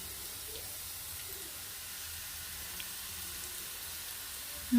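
Ground roasted coconut paste sautés in a pan for naranga curry, giving a soft, steady sizzle and hiss that stays quiet and even throughout.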